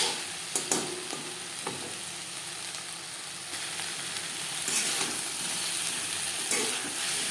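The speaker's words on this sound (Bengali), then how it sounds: "হাই ফ্লেমে 2-3 মিনিট নাড়াচাড়া করে নেব।" Boiled eggplant sizzles and frying steadily in a pan on high flame while being stirred, with a continuous hiss and a few sharp spatula knocks, close and loud, no talking.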